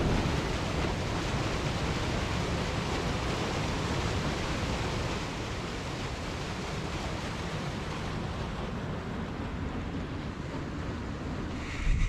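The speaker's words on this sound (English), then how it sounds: "There's a waterfall," A waterfall inside the Cueva de Jimbo ice cave near Ushuaia gives a steady, broad rushing roar that holds fairly close and constant, easing slightly partway through.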